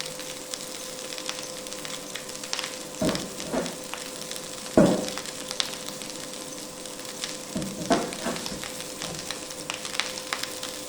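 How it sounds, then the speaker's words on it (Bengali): Cooked rice fries in a pan with a low steady sizzle while a spatula stirs it in a few distinct scraping bursts, close by with no talking. "এই যে ভাত দিয়ে দিলাম। হ্যাঁ, এখন কিছুটা সময় নাড়াচাড়া করে নামিয়ে ফেলবো।"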